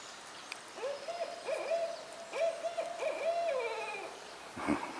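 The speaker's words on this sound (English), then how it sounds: "I hear them." An owl gives a series of repeated hoots in a steady, rhythmic pattern, fairly distant and clear, with a short harsher call near the end.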